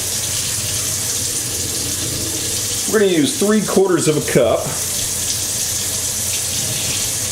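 Warm tap water runs steadily from a kitchen faucet into a measuring cup, a continuous hiss throughout, with a voice speaking briefly over it midway.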